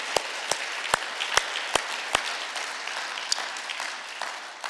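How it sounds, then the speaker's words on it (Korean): A church congregation at a Sunday worship service applauds together in a steady, sustained patter, with a few sharp, close individual claps standing out above the crowd. "이렇게 귀하게 교회를 사랑하고 섬기는 분들에게 한번 감사 박수 저희가 하도록 하겠습니다."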